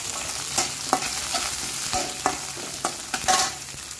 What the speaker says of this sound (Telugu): ఎండుమిర్చికి బదులు పచ్చిమిర్చి వేసుకుంటున్నాను.